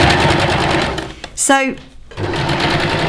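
A sewing machine runs steadily while top stitching a t-shirt, its motor whirring continuously under a person's talk, pausing briefly midway before starting up again.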